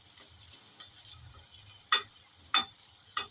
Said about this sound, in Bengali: এখন আমি এটাকে তেলে ভেজে নিব।